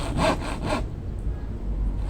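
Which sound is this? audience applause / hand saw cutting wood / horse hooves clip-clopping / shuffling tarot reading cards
hand saw cutting wood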